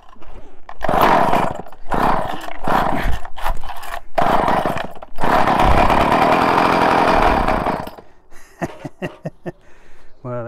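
A Poulan 2000 chainsaw being started on choke: loud, bursty engine sputters and brief roaring catches broken by pauses, running rough for several seconds before dying into a string of short pulls.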